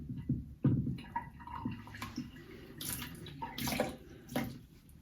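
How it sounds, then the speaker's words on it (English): Water runs and splashes over a shaving brush under a tap, with irregular dripping and sloshing bursts close by and no talking. "We'll get our brush wet."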